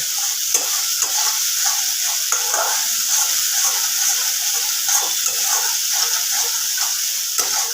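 Spice paste frying in a pan over raised gas sizzles loudly and steadily up close, with rhythmic scraping and stirring strokes of a spoon repeating throughout.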